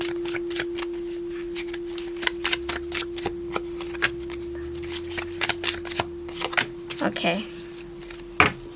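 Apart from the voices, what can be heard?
shuffling oracle cards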